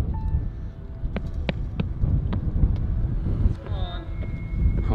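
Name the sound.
strong wind blowing at an abandoned asylum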